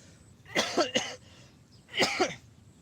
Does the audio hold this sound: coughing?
yes